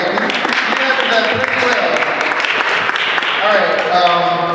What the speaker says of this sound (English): Give yourself a hand clap, right?